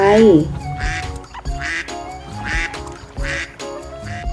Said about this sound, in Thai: ฉันนั้นคือเป็ด ร้องเอ็ดโน้น